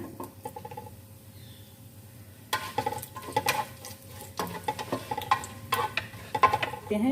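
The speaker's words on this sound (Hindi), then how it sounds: "ऑयल में हम खड़े मसाले ऐड कर देते हैं। खड़े मसालों को फ्राई कर लेते हैं।" Whole spices frying in hot oil in a kadhai, a soft sizzle with scattered crackles and a few stirring clinks that grow busier midway, close and fairly quiet.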